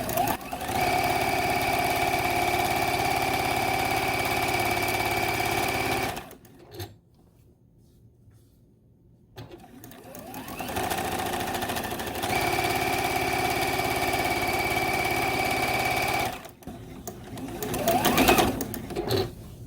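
A sewing machine stitches quilt sashing in long steady runs, humming loudly and evenly, stopping for a few seconds of near silence in the middle before starting again, then pausing once more near the end.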